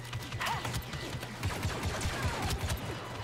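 Rapid blaster fire in a Star Wars Battlefront 2 battle on Endor, a dense fusillade of repeated sharp shots with steady low rumbling underneath throughout.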